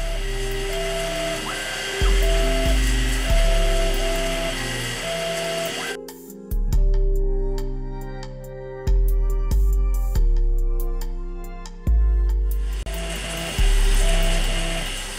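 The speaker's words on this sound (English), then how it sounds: "So now we're at the point where we're drilling the holes." A Harbor Freight Grizzly X2 mini mill converted to CNC drills holes with a whining motor, with repeated pulsing surges as the spindle plunges, and mechanical tones shifting between passes.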